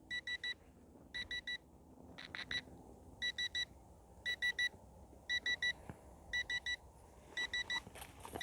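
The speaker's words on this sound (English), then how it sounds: "So it's beeping at me, meaning that the voltage is low." Repeated electronic beeping from an Eachine Mini WingDragon RC plane transmitter sounding a low-voltage warning, with short bursts in a steady pattern of groups over faint outdoor background noise.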